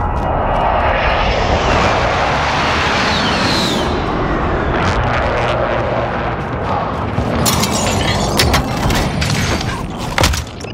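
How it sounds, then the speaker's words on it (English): A helicopter in Call of Duty: Modern Warfare roars loudly and continuously overhead as it closes in, with bursts of gunfire and booming impacts crackling in over the final seconds. "Chopper is in the AO."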